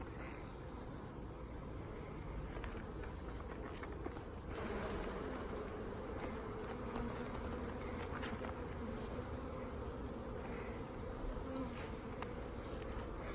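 Honey bees buzz steadily and densely on an open beehive during an August honey harvest from a single brood chamber, a continuous close droning swarm sound with no talking.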